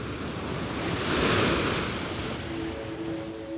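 Ocean surf roars in a broad, continuous wash, one wave swelling and breaking nearby, with a faint tonal hum entering toward the end.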